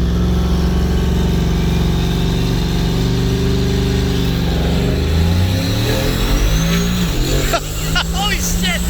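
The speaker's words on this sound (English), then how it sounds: "And just spool it up and launch it and see how it goes." A turbocharged 2020 Ford F-150 pickup launches hard and accelerates, its loud engine roar rising in pitch and shifting gears partway through, with excited voices talking over the run.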